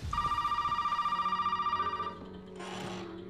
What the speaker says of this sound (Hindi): चलो कॉल आ गई, पहले दरवाज़ा बंद कर लेता हूँ।